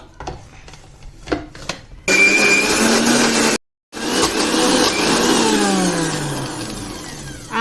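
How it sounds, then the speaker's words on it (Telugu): A mixer grinder loudly whirs as it grinds horse gram chutney, starting after a few soft handling knocks, briefly stopping, then running again with a steady, close roar. "మూత పెట్టుకుందామండి ఇప్పుడు మిక్సీ పట్టుకుందాం"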